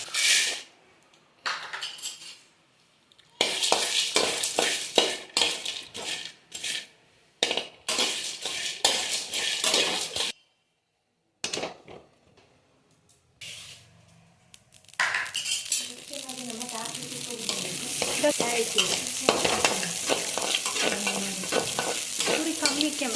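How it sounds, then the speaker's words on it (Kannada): Sambar powder spices dry-roast in a pan over a medium flame, a spatula scraping and stirring in bursts separated by brief pauses, then settling into a continuous rustling, sizzling stir with occasional metallic clinks. "ಎಲ್ಲ ಮಸಾಲೆ ಪದಾರ್ಥಗಳನ್ನು ಕೂಡ ಇದೇ ರೀತಿ ಹುರ್ಕೊಳ್ಬೇಕು"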